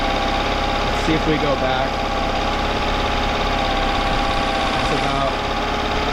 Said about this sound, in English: Alright, I increased that idle a little bit.